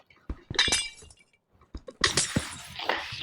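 Glass blocks shattering in Minecraft, a series of sharp crashes and tinkling clinks in separate bursts, loud and close, with short gaps of silence between and no talk.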